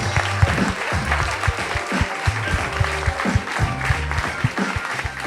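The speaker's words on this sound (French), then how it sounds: "Allez, on applaudit Emma, s'il vous plaît." Audience applause welcoming a participant on stage at a dating show event, dense continuous clapping with some low rhythmic music-like thumps underneath, fairly loud and sustained throughout.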